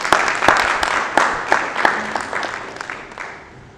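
An audience at an analytics conference panel applauds to welcome a panelist, with a burst of many hands clapping that is loud at first and gradually thins and fades over a few seconds.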